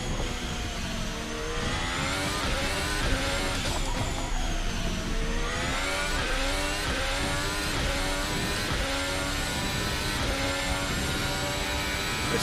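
A modern F1 car accelerating in third gear at the Adelaide street circuit, a loud sustained high-pitched engine wail with rising harmonics and shifting pitch, heard from an onboard position with no voices.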